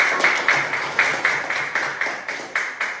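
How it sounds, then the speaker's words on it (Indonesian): Hands clap in a steady, even rhythm, about a dozen sharp claps spaced roughly every quarter second, close and fairly loud with no talking. "Tepuk tangan."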